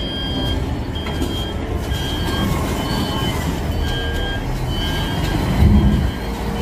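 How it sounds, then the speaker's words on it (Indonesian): A toy forklift gives steady repeated electronic reversing beeps over a busy mechanical toy background, with a brief louder thump near the end. "Forklift."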